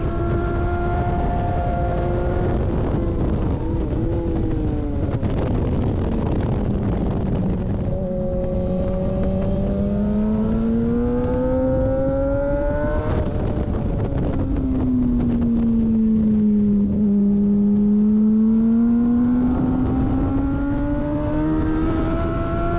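Race car at speed on a track, its engine note droning loud and steady with rising and falling pitch as it brakes and downshifts into the final corner, wind buffeting throughout.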